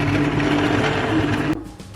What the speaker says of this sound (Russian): сейчас спустя где-то 5 минут взбиваем блендером все в пюре